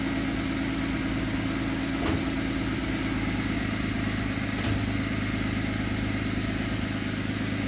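A Mercedes 190E with a turbocharged M104 engine idles at close range, a steady low rumbling hum with a faint mechanical whine and two brief clicks, even and unbroken throughout.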